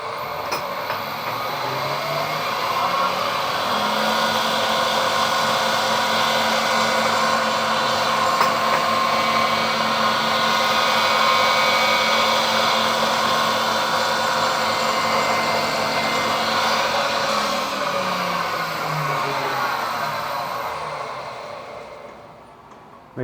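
Metal cutter machining a part for a steam brake cylinder drain valve, a steady loud whirring grind with a constant tone that holds for about twenty seconds before winding down.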